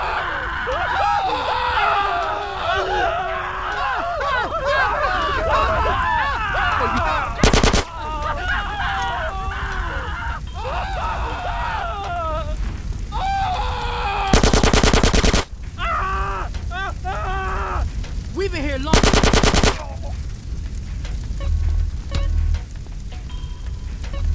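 Machine gun fire in GTA San Andreas, rapid repeated bursts with screams and shouting voices over it, plus a few brief loud noise blasts.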